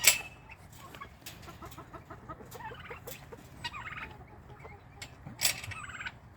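Guinea fowl call in rapid, repeated harsh chattering bursts, several birds overlapping near and at a distance.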